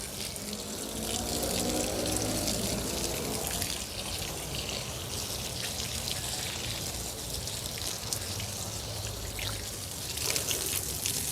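Water pours steadily onto plant soil for several seconds in a continuous splashing, trickling stream, close and fairly loud, with no talking.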